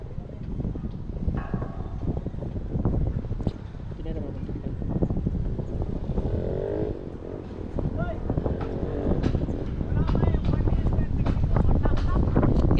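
A motorboat engine runs steadily outdoors with wind buffeting the microphone, rising to a louder, fuller drone toward the end, while people talk over it.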